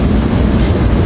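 A commuter train with rail cars rolls through 30th Street station, a loud, close, continuous rumble of wheels on track with faint squealing.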